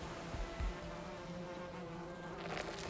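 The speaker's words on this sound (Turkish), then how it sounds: "Anne! Arılar saldırıyor." Bees in the video game Valheim buzz around the player, a close, continuous droning hum that stays fairly quiet and constant with no voices over it.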